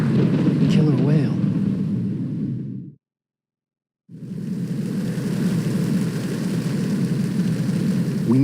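In the game Metal Gear Solid 2, a Kamov Ka-60 Kasatka helicopter gives off a loud, steady rotor and engine roar that cuts out for about a second and then resumes, with voices speaking over it.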